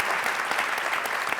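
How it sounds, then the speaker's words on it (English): A conference audience at a Latinx entertainment event claps loudly and steadily, a brief burst of dense hand-clapping from a full room. "let's clap."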